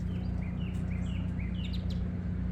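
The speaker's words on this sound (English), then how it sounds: "I wish these birds would come back over." Small birds in a backyard during fall give short, repeated high chirps, moderately near, over a steady low hum and background noise.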